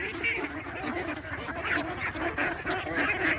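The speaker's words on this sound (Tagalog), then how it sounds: "Busog na mga itik." Close, steady chorus of quacking from a flock of domestic farm ducks that have just finished a feed of corn, rice bran and greens in the Philippine countryside, the calls overlapping continuously without pause.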